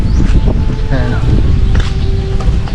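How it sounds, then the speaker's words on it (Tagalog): Strong wind roars and buffets steadily in a low, rumbling rush, with a faint voice briefly heard beneath it. "tapos sobrang hangin"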